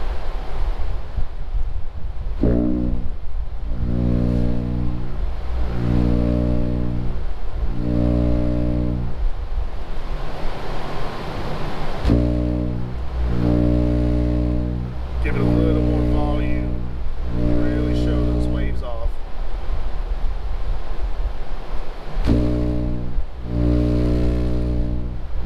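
A water-filled subwoofer reproduces a 60 Hz test tone, heard as a loud, steady low hum that pulses on and off in repeated bursts, with sloshing and rushing noise between them.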